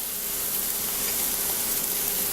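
Shrimp sizzling steadily in a hot pan, a constant bright hiss with no pauses and no talking.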